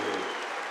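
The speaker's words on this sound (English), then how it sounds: "Ladies and gentlemen, round of applause for Maciej Kaliszkowski." Crowd applause at a strongman log lift competition, the World Log Lift Challenge 2018, a dense steady burst of clapping filling the whole short moment at moderate level.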